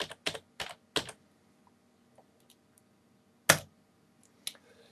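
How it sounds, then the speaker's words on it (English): Computer keyboard keys tapped in a few quick bursts, with a pause and then a couple more keystrokes, close and clear against a quiet room. "If I now go back to the browser and type in redirect,"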